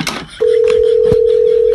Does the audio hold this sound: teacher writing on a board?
no